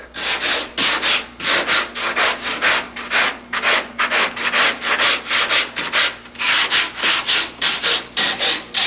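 Sandpaper rubbed by hand over a canard part for a homebuilt aircraft kit, giving a steady series of short, rasping strokes in a regular back-and-forth rhythm, close and fairly loud, with no voices.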